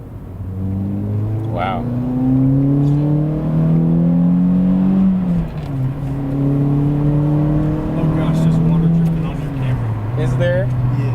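A Toyota Matrix XRS engine revs hard under acceleration, its pitch climbing steadily before dropping at shifts and rising again, loud and close from inside the cabin, with occupants talking and exclaiming over it.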